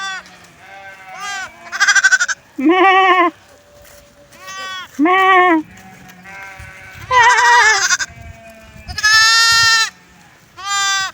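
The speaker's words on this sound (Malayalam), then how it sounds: "രണ്ടും ഉണ്ട് കേട്ടോ ചെമ്മരി ഉണ്ട് സാധാരണ ആടും ഉണ്ട്" Sheep and ordinary goats in a farm pen, bleating repeatedly and loudly, with overlapping calls of different pitches from several animals in close succession.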